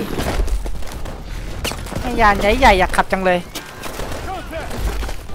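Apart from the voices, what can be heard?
gunfire in Call of Duty Advanced Warfare video game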